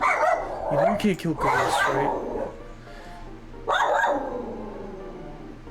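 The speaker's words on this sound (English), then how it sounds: "you may hear my dog in the background" A pet dog barks and yips indoors in a few short bursts, close and fairly loud, mixed in with someone talking over it.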